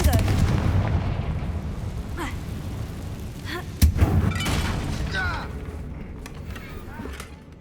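A Confringo spell blast hits a damaged bridge in Hogwarts Legacy: a sharp crack and boom in the middle, set among rumbling game ambience and scattered impacts, with a voice speaking over it.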